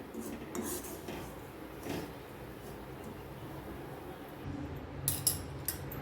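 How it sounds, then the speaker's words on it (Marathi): Semolina is stirred as it roasts in a pan, giving a soft, continuous scraping and rustling with occasional light metallic clinks of a spoon, close and fairly quiet. "छान असं भाजून घ्यायचं आहे बघा मस्त गोल्डन कलर आला पाहिजे आणि सारखा हलवायचा आहे आपल्याला"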